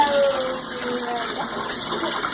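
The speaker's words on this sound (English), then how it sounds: "gonna turn up the water so they're able to swim" Water runs steadily into a tub to fill it for pet ducklings to swim, a continuous gushing rush heard close by at moderate volume.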